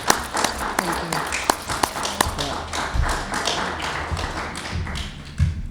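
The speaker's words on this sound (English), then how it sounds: "can we applaud Double Edge for it?" An audience applauds a theatre company during a public conversation, the clapping uneven and sparse with distinct individual claps and thumps standing out, somewhat distant in the room.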